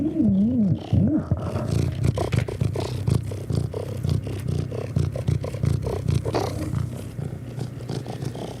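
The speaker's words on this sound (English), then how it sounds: "Did you hear that? She's purring." A big cat's low, rumbling purr pulses steadily and close, after a couple of brief throaty vocal sounds at the start.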